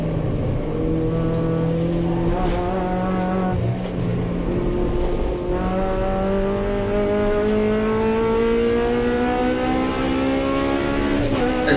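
Hot hatch race cars from the 750 Motor Club series circling Rockingham, several engines droning and revving together continuously at close range, with rising and falling pitch as the pack passes.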